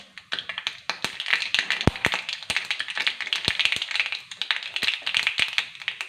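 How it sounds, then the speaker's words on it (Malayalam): Mustard seeds splutter in hot oil for a tempering, with sharp, irregular pops and crackles scattered over a continuous hissing fry, close and fairly loud. "കടുക് ഒന്ന് പൊട്ടട്ടെ"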